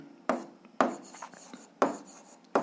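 Pen strokes on paper while numbers are written out for an algebra exercise, four distinct scratchy bursts in an uneven rhythm, close and quiet.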